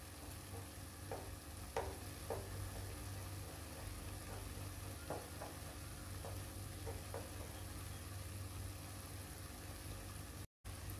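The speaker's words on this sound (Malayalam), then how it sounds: "എല്ലാം കൂടെ ഒന്ന് മിക്സ് ചെയ്ത് കൊടുക്കാം." Broccoli being stirred and tossed in a hot pan, with a steady low sizzle and scattered soft scrapes and clicks of the spoon against the pan throughout, fairly quiet and close, with no voices.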